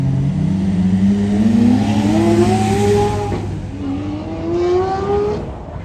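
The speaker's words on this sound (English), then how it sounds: "It's Powercraft exhaust." A sports car in Tokyo with a loud, raspy aftermarket Powercraft exhaust revs up and holds high, its pitch climbing and falling twice as it accelerates close by.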